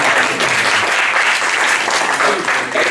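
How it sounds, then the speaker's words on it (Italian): Steady, loud audience applause fills an Italian event hall, dense clapping holding an even level throughout with no break. "facciamo più un applauso"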